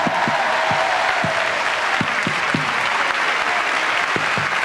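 A concert audience applauds the 24 musicians of the orchestra at a televised Eurovision song selection, a steady dense wash of clapping throughout with a few sharper individual claps standing out.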